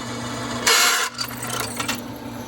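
A power drill with a 4.5mm bit whirs in a loud, short burst, followed by rough grinding and scraping as it bores into a rotten horse hoof.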